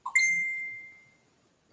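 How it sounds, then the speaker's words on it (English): A phone notification rings out as a single bright ding that fades over about a second, followed by a faint, brief second chime. "that was my phone."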